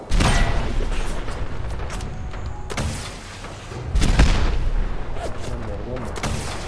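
Gunfire in Fallout 4, several loud sharp bursts with booming, echoing tails spaced a couple of seconds apart, over a rumbling background of ambient noise and mechanical clatter.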